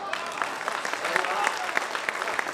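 Audience at a Hindi poetry recital (kavi sammelan) breaks into a sustained round of clapping, dense crackling applause with sharper individual claps standing out, fairly close and filling the whole moment.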